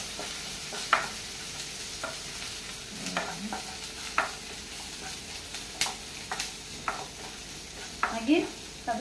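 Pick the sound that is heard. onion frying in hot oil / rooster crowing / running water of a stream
onion frying in hot oil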